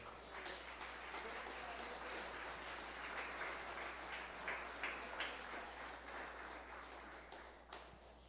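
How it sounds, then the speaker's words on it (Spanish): A church congregation claps continuously, a sustained, even patter of applause with a low hum beneath it. "Bríndele un aplauso al Señor"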